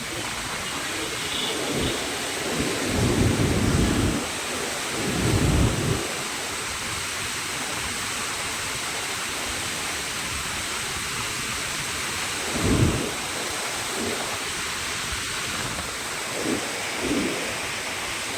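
Heavy monsoon rain pours steadily in Nashik while several deep thunder rumbles roll through at intervals, the downpour forming a dense, continuous hiss throughout.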